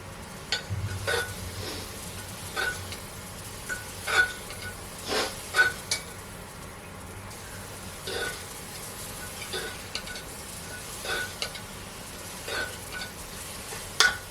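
Tomatoes frying in a pan are stirred with a utensil, giving a quiet sizzle under repeated scraping strokes and light clinks at an irregular pace.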